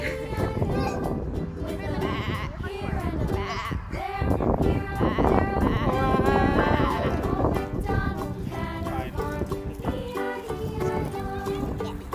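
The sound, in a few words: sheep bleating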